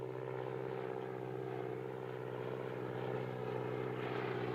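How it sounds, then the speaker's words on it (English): A crop-dusting propeller plane flying overhead in the 1959 film North by Northwest: a continuous, droning, buzzy engine tone with a steady throb, fairly faint and unchanging throughout. "That plane's dusting crops where there ain't no crops."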